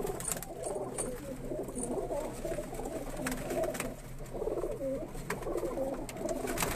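Several Indian red pigeons give low, throaty coos in overlapping rolling phrases, near and steady over a constant outdoor hiss.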